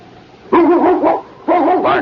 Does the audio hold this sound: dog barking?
yes